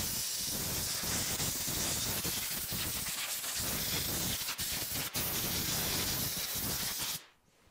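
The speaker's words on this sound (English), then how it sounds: "We're gonna blow some of the junk off this machine" A compressed-air blower hisses steadily and loudly up close as it clears dirt off a Yamaha PW80 dirt bike, with only brief dips in the stream before it cuts off at the end.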